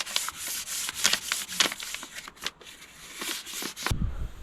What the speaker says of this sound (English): So we finished up with our real fine sandpaper